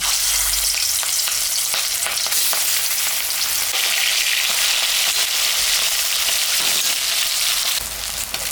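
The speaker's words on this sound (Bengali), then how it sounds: "তেল গরম হয়ে গেছে মাছটা এখন আমি ভাজব" Salted, turmeric-rubbed rohu fish fries in hot mustard oil, producing a loud, dense, continuous sizzle with constant spattering crackle close by and no voices.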